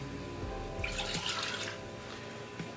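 Water and white vinegar being poured together for a pickled-egg marinade, a steady, moderately quiet liquid stream splashing into a container, briefly brighter near the start, with no talk.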